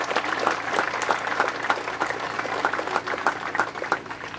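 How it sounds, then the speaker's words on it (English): Spectators at a cricket prize-giving at the Prep Oval applaud the umpires and scorers, a steady patter of many hands clapping at moderate distance, continuous for several seconds without speech over it. "To the umpires and the scorers, let's please give them a massive round of applause."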